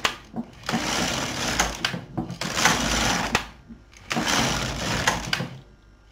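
LK 150 knitting machine carriage swept back and forth across four rows, three long whirring, clattering passes separated by short pauses, close and moderately loud.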